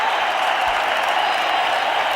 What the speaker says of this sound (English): Something to cheer about for this Mumbai crowd.